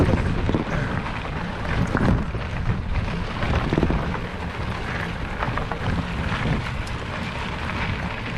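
Rain falls steadily outdoors during a mountain trail race stage in Serra da Estrela, a dense continuous hiss with a low rumbling wash throughout and no talk.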